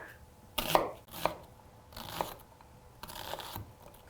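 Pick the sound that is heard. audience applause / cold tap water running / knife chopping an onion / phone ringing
knife chopping an onion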